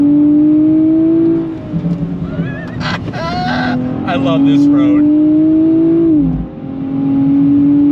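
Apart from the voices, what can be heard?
Nissan Z NISMO engine revving after a downshift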